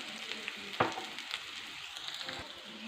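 Onion and garlic fry in oil with a steady close sizzle, broken by a couple of quick stirring scrapes in the pan.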